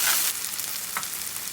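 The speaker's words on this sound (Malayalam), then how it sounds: "പൊട്ടറ്റോ എല്ലാം ഇട്ട് ഒണിയനും പൊട്ടറ്റോയും നല്ലതായിട്ടൊന്ന് ഇളക്കി കൊടുക്കാം." Sliced onions and potatoes stirred together in hot oil in a pan, giving a brief, steady sizzle with soft scraping as they are turned.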